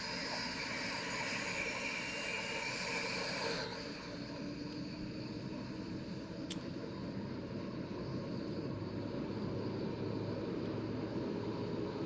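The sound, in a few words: CFM56 jet engine starting up in a flight simulator video game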